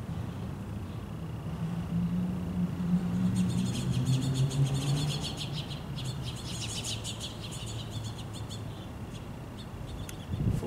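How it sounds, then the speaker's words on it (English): Birds singing outdoors in a backyard, scattered chirps and trills in the middle distance over a low rumble of background noise, with a brief rustle near the end. "birds."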